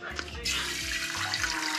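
Water from a tap running into a pot, a steady splashing pour that starts abruptly and continues, with faint low sounds beneath.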